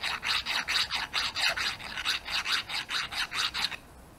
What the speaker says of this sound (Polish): Normalnie ją rysuje tym pilnikiem.